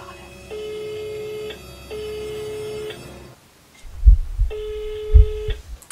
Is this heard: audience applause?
no